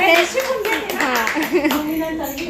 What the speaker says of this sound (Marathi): मस्त मस्त टाळ्या वाजवा